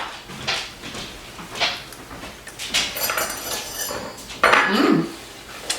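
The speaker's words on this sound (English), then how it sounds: "It's hard to cut because it's rolled." A knife and fork work through rolled, marinated steak on a plate, giving repeated close scraping and clinking of metal on ceramic in an irregular rhythm.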